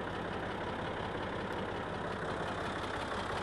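A farm tractor engine idles on a small North Carolina farm ahead of soybean planting, a continuous low rumbling drone that holds steady and close with no talk.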